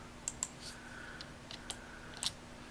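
Mouse clicks and keyboard presses while modeling in Blender come as a few quiet, crisp taps spaced irregularly over a faint steady hum.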